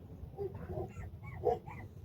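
A dog outdoors by Decker Lake gives faint, brief whimpering yips against a low background hum.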